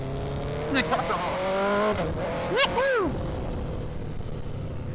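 An Aprilia RS660 Extrema sport motorcycle revving loudly up through the gears nearby as it accelerates on a road, the engine pitch climbing and dropping between shifts over steady background noise.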